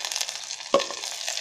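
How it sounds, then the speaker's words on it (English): Onions frying in an electric kettle give a faint, steady sizzle, with one brief stirring scrape partway through. "fry the onions till it turns brown color, light brown color"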